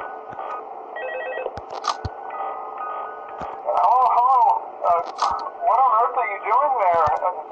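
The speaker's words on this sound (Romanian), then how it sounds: "Ne sună telefonul?" An in-game telephone rings in the horror video game Five Nights at Freddy's 2, its repeated bell-like trills sitting under steady background hum while a person talks over it throughout.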